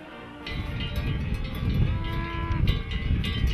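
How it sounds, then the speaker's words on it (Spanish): Herd of cattle lowing in a dry valley in Cuenca, Spain, ahead of a seasonal transhumance drive south, with several overlapping moos, some near and some farther off, over a steady rustling background. "estas vacas piden, a su manera, el inicio de un viaje un tanto extraño que les llevará a tierras más cálidas"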